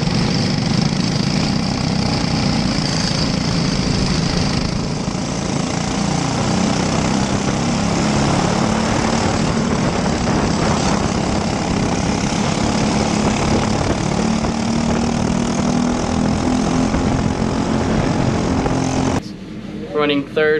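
A racing go-kart engine drones loudly and steadily through a heat race at Monticello, with a high buzzing note and wind noise that stay constant until a sudden drop and a few sputters near the end.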